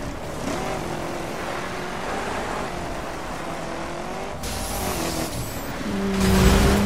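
A car in the racing game The Crew accelerates, its engine rising steadily in pitch and loudness over several seconds, revving hardest near the end, with no talk.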